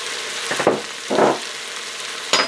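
Prepared horseradish and mustard stirred into a beef stew in an Instant Pot, a few short scraping stir strokes over a steady sizzling hiss, close by, with no voices.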